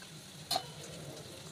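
Tomatoes dropped into a pan of cooked onions frying over low heat, giving a brief burst of added sizzle around the half-second mark against a steady soft frying hiss.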